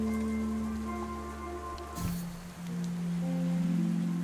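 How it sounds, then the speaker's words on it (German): Steady rain falling in the game The Wild at Heart, a soft continuous patter under a sustained musical tone and ambience, with a brief change in the sound midway. "Es regnet."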